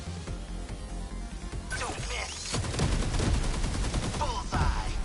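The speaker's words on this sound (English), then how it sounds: "Oh, that was the sentry gun." A sentry gun fires in 13 Sentinels: Aegis Rim, a rapid, sustained volley that builds from a softer start into loud, dense repeated shots with crashing impacts mixed in.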